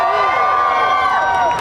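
A large convention crowd cheers and shouts at a horror fan event panel, a loud sustained roar of many voices with whoops rising throughout.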